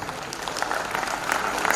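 An audience at a Hyderabadi comedy theatre show applauds to welcome a guest, a dense, continuous wash of clapping that builds slightly toward the end.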